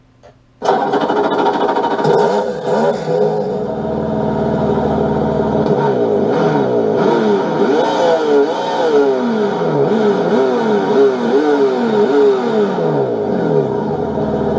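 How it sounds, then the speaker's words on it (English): A loud engine runs close by, revving up and down repeatedly in rising and falling sweeps, steady and continuous after a sudden start. "This is the second engine."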